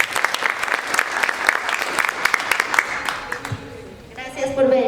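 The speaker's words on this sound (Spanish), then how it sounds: "Un aplauso para Fia." An audience claps through a conversation event for a dance troupe, steady applause with sharp individual claps that thins out near the end as other sounds come in.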